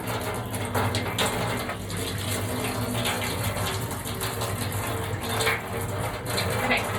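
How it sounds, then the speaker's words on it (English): Tap water runs steadily into and around a bottle being rinsed to clear out disinfectant, a continuous close splashing hiss with slight sloshing surges as the bottle is moved under the stream. "going to rinse our bottle a few times to ensure that all the disinfectant's out of it."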